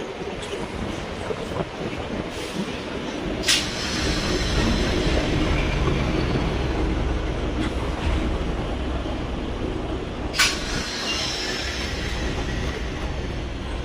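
A train passes a railway level crossing at night, a broad continuous rumble and rush of wheels that swells and holds steady, with a few sharp clacks or squeals cutting through.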